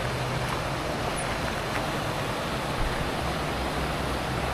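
Small river stream flowing through a forest in a valley near Madakaripura waterfall at night, a steady broadband rush of water, fairly loud and constant with no breaks.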